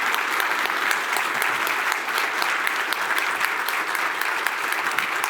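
Sustained applause from a large audience after a speech on Ukraine's cyber defence: thick, even clapping from many hands, close and loud, with no break.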